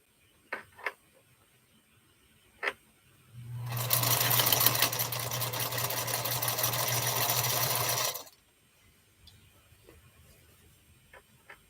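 A sewing machine stitches fabric for about five seconds in one steady, loud mechanical whir with a low hum, following a few sharp clicks and handling noises in a quiet room.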